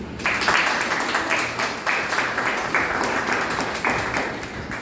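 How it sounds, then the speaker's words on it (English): Applause from a modest crowd at a Toastmasters meeting, steady clapping that continues throughout at a moderate, even level. "Can we extend our applause to Toastmaster John for successfully finishi"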